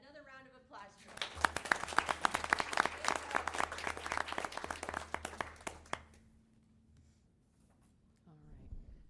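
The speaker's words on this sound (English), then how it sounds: "another round of applause for you" A board meeting audience gives a round of applause, a dense burst of many hands clapping for several seconds that then fades out, with speaking before and after it.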